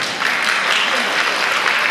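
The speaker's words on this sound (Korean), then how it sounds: "다시 한번 박수 보내주시기 바랍니다." Sustained audience applause filling a hall at the opening ceremony of an international folk painting (minhwa) forum in Gyeongju, steady and dense throughout without a break.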